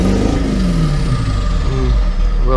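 A Ford F550 Powerstroke diesel pickup engine runs loud and close with a steady, rough rumble. Its pitch swells and sags slightly through a brief rev.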